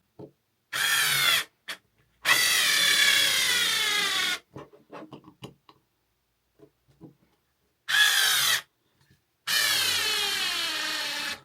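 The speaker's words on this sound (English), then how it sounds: "It's not a heavy duty screwdriver, and this isn't a pre-drilled piece of wood." A Black and Decker 6V handheld cordless screwdriver drives a screw into solid, non-pre-drilled wood, with a motor whine in two long bursts and two shorter ones. Quiet clicks and handling noises fall between the bursts.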